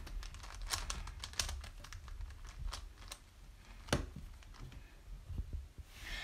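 A Megaminx twisty puzzle scrambled by hand, its plastic layers turning in quick, irregular bursts of clicks and rattles, close and fairly quiet, with no talking.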